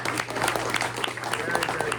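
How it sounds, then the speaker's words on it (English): A crowd at a press luncheon claps steadily in a short, even round of applause. A low hum runs underneath. "let's give one more round of applause for Rio"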